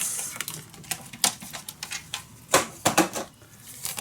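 Paper being cut for a handmade mini album, a run of crisp snips and clicks spaced unevenly, close and fairly loud with no voices.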